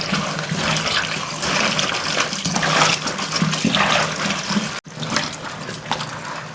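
Taro stems being rinsed under running water in a basin, a steady loud rush of water with clattering and splashing throughout, briefly cut off near the end before resuming.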